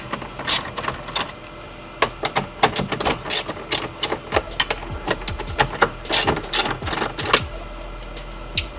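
A ratchet loosening 10 mm bolts to remove the stereo from a Subaru BRZ or Scion FRS dashboard, giving quick clicking bursts and metallic ticks at close range, with no voices.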